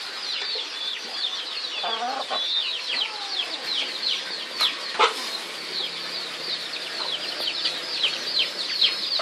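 Chickens cluck and chatter repeatedly in a lively, fairly close stream of short calls, with a few louder squawks and brief bursts of wing flapping scattered throughout.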